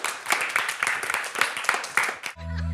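An audience claps for two participants, a brief burst of rhythmic hand clapping, fairly close, ending abruptly as a musical tone cuts in.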